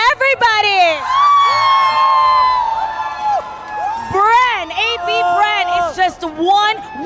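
Crowd cheering and whooping at the M5 World Championship esports event, loud rising shouts and screams from a large audience that surge, dip and swell again across a few seconds.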